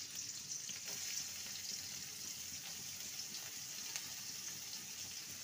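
Chopped onions and green chillies frying in oil left over from frying fish, a steady close sizzle with small crackling pops throughout, no voices.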